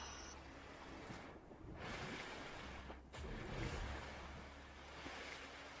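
Ocean surf in a video game washes in as steady, moderately loud broadband noise, swelling and receding in slow waves with no voices over it.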